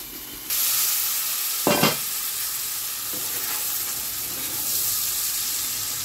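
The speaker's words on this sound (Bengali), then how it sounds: "মশলা ভাজা হয়ে গেছে বালা করে, উড়ি বিচিও ভাজা হয়ে গেছে।" Spices and urad beans frying in a hot pan, a continuous close, bright sizzle with a quick clatter of a stirring utensil against the pan.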